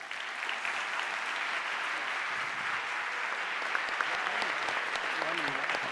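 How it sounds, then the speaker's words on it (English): An audience applauds a panel at the close of a talk, a steady, dense wash of many hands clapping that holds evenly for the full six seconds with no voices rising above it. "I think we'll do it by applauding them."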